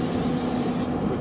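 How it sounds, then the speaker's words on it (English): A steady, close hiss of an aerosol cooking spray on a smoker grate runs for about a second, cutting off sharply near the end. "quick dose of cooking spray."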